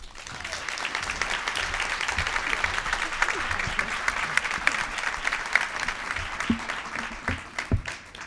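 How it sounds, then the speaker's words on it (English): An audience at a high-impact tutoring summit plenary in Washington, DC applauds its panel with dense, sustained clapping that keeps a steady level before thinning toward the end, a few sharper claps standing out. "One more round of applause for our panel and Mayor Bowser in absentia."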